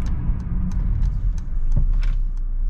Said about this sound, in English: Let's go ahead and test the brakes.